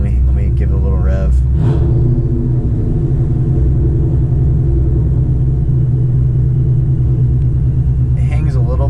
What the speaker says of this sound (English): Let me give it a little rev.